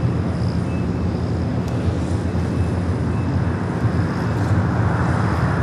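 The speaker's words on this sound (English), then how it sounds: "We do have a United Dreamliner heading to Newark, flight 1981, a 787-10 Dreamliner" A United Boeing 787-10 Dreamliner departing from LAX, a broad, loud, steady jet roar rumbling throughout with no talk.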